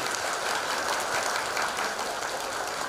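Audience at a health talk show in Banyuwangi giving steady, even applause, heard at a moderate distance and continuing evenly throughout.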